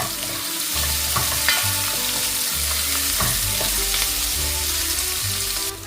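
Shallots sauté in a pan with a dense, steady sizzle, punctuated by repeated spatula scrapes and clinks throughout; no voices.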